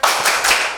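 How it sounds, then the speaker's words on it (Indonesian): A standing group of dance teacher trainees in a classroom session claps together in a brief, tight rhythmic burst of a few sharp, loud, unison claps. "Mari teman-teman kita tepuk semangat semuanya berdiri"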